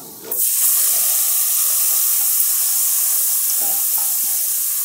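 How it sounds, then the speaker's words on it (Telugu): Carrot frying in ghee in a pan, a steady hissing sizzle that starts abruptly as the pieces hit the hot fat, then holds loud and even close by with faint clinks, no talking. "ఇదిగోండి పచ్చివాసన పోయే వరకు ఇది వేయించుకుందాం."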